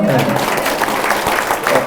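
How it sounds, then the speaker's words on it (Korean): Audience applause in a large conference hall at a Seoul Station lecture, a dense steady wash of clapping that carries through the whole moment with a faint voice underneath. "그런데 박수 한번 치실까요?"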